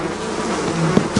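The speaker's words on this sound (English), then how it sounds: "Dale, what the heck are you doing with bees?" Bees buzzing steadily and loudly up close, a dense continuous drone with a couple of brief louder bumps near the end.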